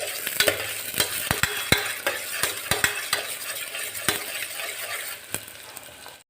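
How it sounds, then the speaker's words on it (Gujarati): Garlic cloves stirred into khichdi in a pressure cooker: a spoon repeatedly knocks and scrapes against the metal pot in irregular sharp clacks over a low sizzle, with no speech. "હવે હલાવી એકદમ સારી રીતે આપણે મિક્સ કરી લેવાનું છે"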